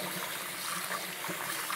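Potatoes being washed in warm water, stirred around by hand in a bowl, give a soft continuous sloshing and trickling with small splashes, close and fairly quiet.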